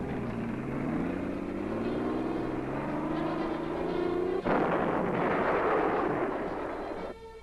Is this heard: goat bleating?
no